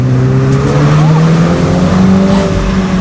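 A 2019 Mini Cooper S Cabriolet engine revs hard and pulls under heavy acceleration, a loud steady droning roar rising slightly in pitch, heard from inside the car.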